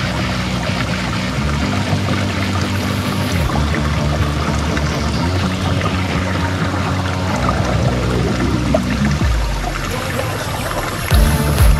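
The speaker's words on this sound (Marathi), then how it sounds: "तर सध्या बॉटल घेते भरून आणि मग ते पाणी पिणार आहे" Cold water from a village source pours steadily into a bottle, a continuous close rushing stream with no talk.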